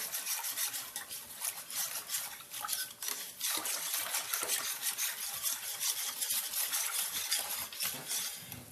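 A spoon stirs pandan rice dessert with added salt and ghee, making continuous scraping and rubbing sounds with soft wet churning, close up and steady, with no talking.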